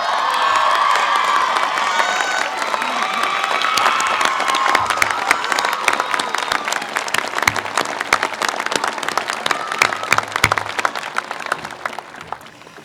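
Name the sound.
audience applauding and cheering at commencement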